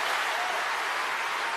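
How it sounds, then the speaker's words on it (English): Audience applause for a speaker on clean, renewable energy: a dense, steady wash of clapping that stays loud and even for the whole short stretch, with no voices standing out. "He gets big applause for saying that."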